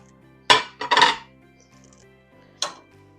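Lentil soup mixture being scraped and tipped back into a cooking pot, with a few close metallic clanks and scrapes of utensil on pot separated by brief quiet.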